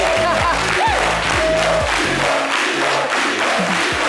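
Applause from a television talk-show studio audience, loud and continuous clapping mixed with crowd noise, cheers and whoops, with music and tonal sounds running underneath.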